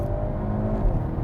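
Engine of a 2022 Hyundai Veloster N, a steady, dense mechanical roar with whirring drone, held at a constant level with no break, heard from close by without any talking.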